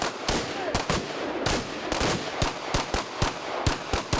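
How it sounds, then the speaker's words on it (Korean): Naval special forces counter-terror shooting training alternating a machine rifle and pistols; loud, sharp gunshots crack out in irregular single shots and short bursts, about a dozen over four seconds, with no talking. "이번에는 기관 소총과 권총을 번갈아 하는 사격 훈련이다."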